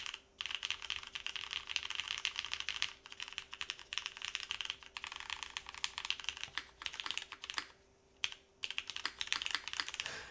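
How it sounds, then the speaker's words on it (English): Steady, rapid typing on a Quantum60 mechanical keyboard fitted with vintage Cherry switches, crisp close clacks in a continuous rhythm with a brief pause near the end, no voices. "Can we get an email co-working stream of just typing on this board?"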